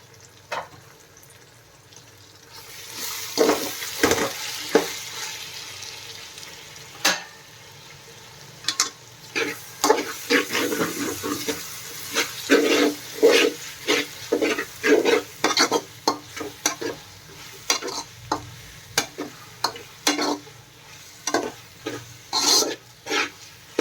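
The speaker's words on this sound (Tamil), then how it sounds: "தக்காளி நல்லா வதங்கட்டும்." Tomatoes sauté in a pan for vegetable brinji rice, making a soft ongoing sizzle broken by frequent sharp scrapes and knocks of a spatula stirring against the metal.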